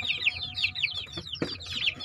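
Several young breeding-stage chickens cluck and chirp in quick overlapping bursts, close by, with a low background hum and a brief knock partway through.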